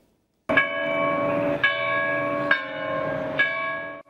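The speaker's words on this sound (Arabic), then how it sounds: "قرعت أجراس كنيسة سركيس المقدس في طهران" Church bells of Saint Sarkis church in Tehran ringing, several heavy resonant strikes about a second apart with a long sustained hum between them, heard alone.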